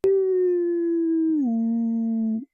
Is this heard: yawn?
no